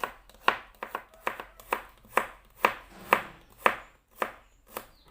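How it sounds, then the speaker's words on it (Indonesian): Two garlic cloves are sliced thinly with a knife on a cutting board, giving about a dozen crisp, evenly spaced chops in a steady rhythm, close and clear with no talking. "Ini aku gunakan 2 siung bawang putih diiris tipis."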